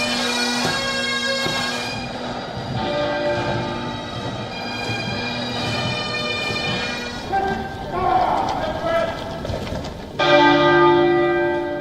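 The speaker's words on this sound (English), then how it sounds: "Chimes of the Big Ben marked the start of the state funeral" Big Ben's deep bell chimes ring out in London marking the start of Queen Elizabeth's state funeral, resonant strokes with a long ringing decay, alongside distant hoof clops and crowd sounds.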